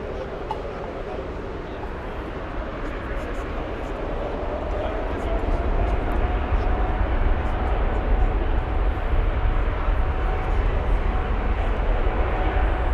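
An Airbus A350 airliner at Frankfurt airport gives off a broad jet roar that swells and holds steady, heard at a distance, with people talking throughout.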